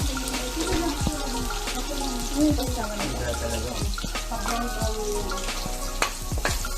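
Food spits and splatters in hot cooking oil in a home kitchen, a dense crackling sizzle running throughout with scattered pops, close by, while voices talk over it.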